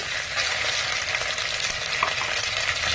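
Ginger garlic paste fries in a pan for a mutton and flat bean curry, giving a steady, close crackling sizzle with soft stirring, no voices.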